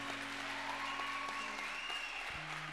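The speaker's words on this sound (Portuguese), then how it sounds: "Aplauda o nosso Joaquim, que está prestes a vir aí também." A church congregation applauds in a steady, dense wash of clapping that lasts the whole stretch, with a faint tone drifting underneath.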